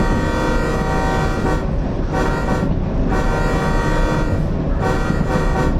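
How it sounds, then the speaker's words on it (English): Locomotive horn in the Derail Valley train game, sounding a long steady multi-tone blast that runs almost unbroken through the whole stretch, loud and up close. "don't forget to honk the horn"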